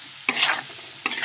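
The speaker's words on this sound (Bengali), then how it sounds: "তো মশলাটা ভালো করে তেলের উপরে কষিয়ে নিয়ে" Cumin and coriander powder paste frying in oil in a pan, bursts of sharp sizzling as it is stirred, with a quieter stretch between two loud hissing surges, close up and with no one talking.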